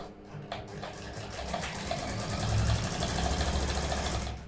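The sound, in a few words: sewing machine stitching a shirt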